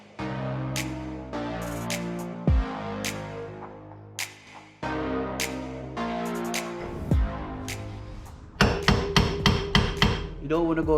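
A spanner gently tapping an aluminium coilover ring on a car suspension strut, ringing metallic knocks repeated at a steady pace and then a quicker burst of taps near the end, close and clear with no talk.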